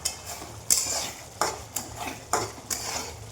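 A spoon scrapes and knocks against a pan while Rajasthani gatte vegetable curry with yogurt is stirred, giving roughly six sharp, evenly spaced clinks over a soft bubbling background, close and unaccompanied by speech.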